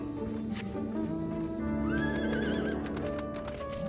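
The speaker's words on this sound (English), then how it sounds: "Rather be on a horse." A horse neighs loudly in a rising, wavering whinny midway in Final Fantasy XIV, with hoof clops and game sound effects around it.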